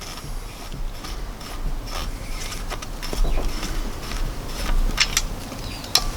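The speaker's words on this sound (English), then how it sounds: "Then when you open it, you do it here, unscrew the spare air." Spare Air mini scuba bail-out tank being unscrewed: close, continuous scraping and ratcheting thread friction with a few sharper metallic clicks and a brief knock near the end, no talk.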